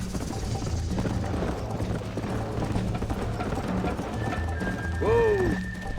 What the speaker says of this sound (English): Neck and neck, Miss McFarland. Giddy up!